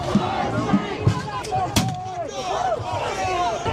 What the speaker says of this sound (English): Shots are being fired.